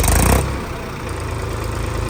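An Eicher 485 tractor engine with a newly fitted silencer starts with a short louder surge, then settles into a steady low rumbling run, close up and continuous with no talk.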